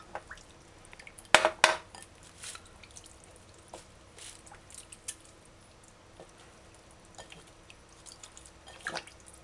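Chicken pieces are rinsed with distilled white vinegar and water in a bowl, giving quiet intermittent splashes, drips and squishy handling sounds with a few louder sloshes.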